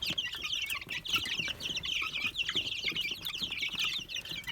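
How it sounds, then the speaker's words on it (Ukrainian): Dense, continuous high-pitched peeping from many three-week-old chicks, including Leghorns and Bielefelders, close by, with occasional soft rustling and wing flutters underneath. "Ось такі наші щебетушки маленькі."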